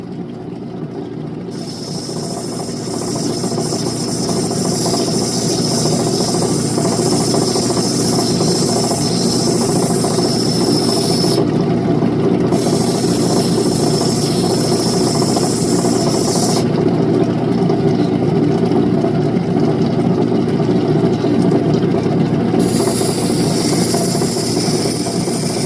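A lapidary polishing wheel hums steadily and loudly as turquoise is polished against it, a continuous motor drone with a brief pause of higher hiss, no voices.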